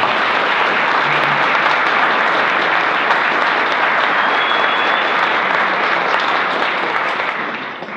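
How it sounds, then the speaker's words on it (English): Wedding guests break into loud, sustained applause for a couple marking their golden anniversary, a thick continuous wash of clapping that eases off only at the very end. "I think they deserve a round of applause."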